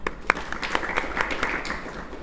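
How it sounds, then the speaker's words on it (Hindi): An audience at a spiritual class claps in a short burst of scattered, overlapping claps, with one sharp clap standing out early before the applause tapers off. "इसके लिए तालियां हो जाए"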